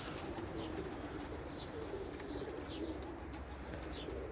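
Pigeons coo softly in a loft, several low repeated coos over a quiet hiss, with faint chirps scattered through.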